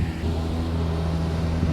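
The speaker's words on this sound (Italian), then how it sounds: "e di traffico ce n'è tantissimo." A steady low engine rumble of city road traffic in Mostar, Bosnia and Herzegovina, drones throughout the short stretch, with vehicles passing nearby and no voices.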